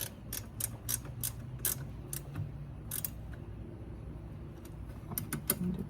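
Fasteners on a Porsche 924S windshield wiper motor tightened with a ratchet, giving bursts of sharp rapid clicking separated by short pauses over a low steady background hum.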